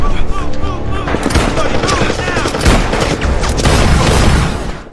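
Dense bursts of gunfire crackle through a tense forest ambush scene in a horror film, loud rapid shots and booms layered over a busy soundtrack, with voices briefly audible underneath.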